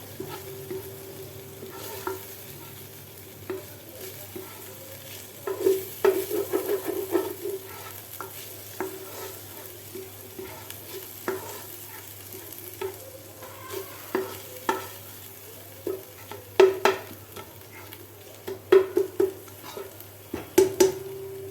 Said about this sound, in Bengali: ভাজা ভাজা করে নিয়ে যাতে কাঁচা গন্ধটা চলে যায়